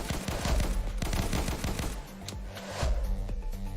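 Rapid bursts of gunfire from the video game Testing Grounds crackle through a busy battle mix, with dense shots and explosions packed together, then a brief lull before another loud volley.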